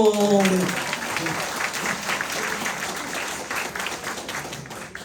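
Applause fills a church during a Saturday prayer meeting. A congregation claps steadily and fades slightly over several seconds, while a voice speaks briefly at the start.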